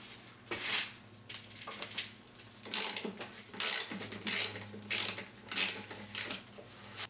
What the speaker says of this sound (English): Loosen this 12mm fastener.